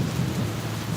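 Heavy rain pours down outdoors in a city park in Medellín, a dense, continuous hiss and rumble with no breaks and no voices.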